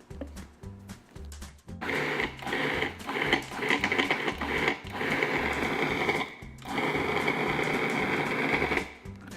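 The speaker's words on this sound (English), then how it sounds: "Now that we have the sugar, jalapeno, salt, and flour combined in our food processor," A food processor whirs steadily, with rhythmic low thumping, as it cuts butter into a jalapeño shortbread dough of sugar, chopped jalapeño, salt and flour; the loud motor runs continuously with a brief dip partway through.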